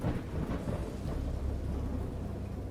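Heavy rain pours steadily through a thunderstorm in the video game Dagon, with a low continuous rumble of thunder beneath the dense hiss of falling water.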